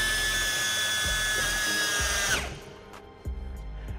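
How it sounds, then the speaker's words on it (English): An aircraft landing gear training rig in a maintenance school hangar retracts. A loud, steady motorized whine is cut by regular mechanical clunks. It winds down abruptly partway through, and a few softer knocks follow in relative quiet. "This one's actually functional, so we can actually turn it on, and then we can actually stow landing gear."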